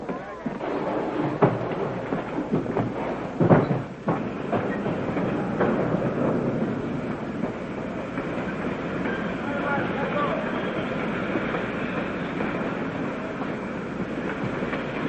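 A passenger train in a 1940 film rumbles steadily with rattling carriage noise and a few sharp knocks early on, while voices talk over the continuous clatter.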